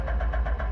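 A stalled Supercar Challenge race car being restarted at the Zolder circuit, its engine cranking and catching in a steady, loud, pulsing drone that stays close and dominates throughout.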